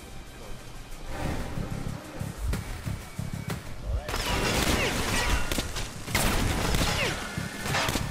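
Gunfire in the video game Metro Last Light: scattered sharp shots at first, then a dense, sustained barrage of overlapping blasts and crashes, with voices underneath.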